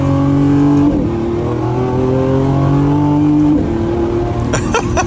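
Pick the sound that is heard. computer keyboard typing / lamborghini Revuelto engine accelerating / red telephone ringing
lamborghini Revuelto engine accelerating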